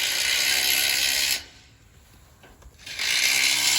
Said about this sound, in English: He's tightening up those lag bolts on the end.